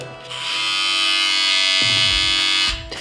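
A Braun MGK 7020 electric shaver runs with its widest blade fitted, giving a loud, steady close-up buzz that holds for about two and a half seconds before cutting off, with no talking.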